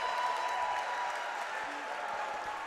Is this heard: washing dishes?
no